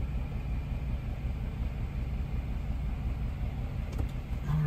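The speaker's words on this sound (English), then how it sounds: "it's shaking all over the place. Really low RPMs. Guess it's misfiring as well." Project pickup truck engine idling very low and rough, shaking and misfiring: a quiet, continuous low rumble with an uneven, pulsing throb and no talk over it.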